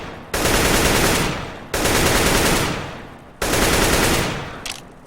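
Automatic rifle spray fire in the video game CS:GO, three loud sustained bursts of rapid gunfire, each rolling for over a second before a brief pause, with no talking.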